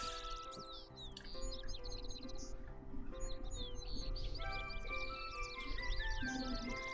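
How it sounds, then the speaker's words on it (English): Birds chirp and trill in the Kingdom Hearts 3 video game, a busy overlapping stream of bright tweets and whistled calls continuing throughout over soft background game music. "Listen, they're singing for us. They sing for everyone. They're birds."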